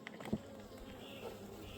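Honey bees buzz softly at an open hive in a low, continuous drone, faint and fairly close, with a brief thump near the start.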